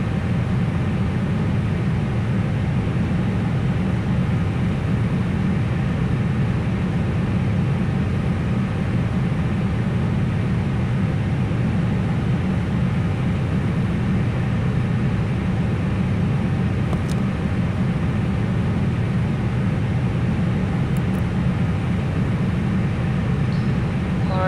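A Flight Factor A320 airliner taxiing in a flight simulator, a steady low engine rumble and hum that holds evenly throughout.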